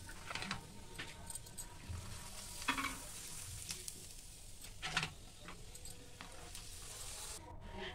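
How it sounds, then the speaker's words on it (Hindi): Potato papad frying in hot oil gives a steady, close sizzle with occasional bubbling bursts and light scraping as the papad is turned, with no talking. "ये आलू के पापड़ इतने बढ़िया बन रहे हैं और तल के भी निकल रहे हैं बढ़िया तेल में नहा के"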